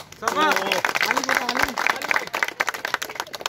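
A crowd at a programme in Bishnupur breaks into a burst of clapping that builds and then thins into scattered claps, heard under loud voices and a sung or drawn-out vocal tone near the start.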